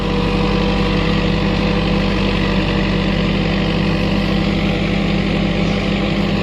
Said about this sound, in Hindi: तो गाइस थ्रेशर चल रहा है